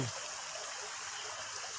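Water pours steadily from a spring spout at an old royal bathing site in Rahuning village, a constant broadband splashing rush that stays even and close throughout.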